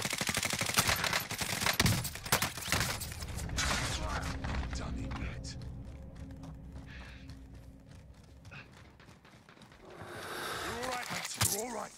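Bursts of video game shooter gunfire ring out, dense at first and then tapering, mixed with in-game effects while players talk over the action throughout.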